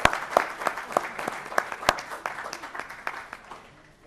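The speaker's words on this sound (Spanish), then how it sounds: "un aplauso también" Applause for a prize draw winner at a business seminar, a modest room of people clapping with a few sharp, distinct claps standing out, thinning and fading over four seconds.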